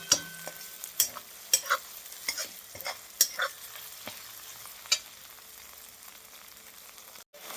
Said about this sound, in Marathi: टोमॅटो मऊ होईपर्यंत आपल्याला भाजून घ्यायचं आहे.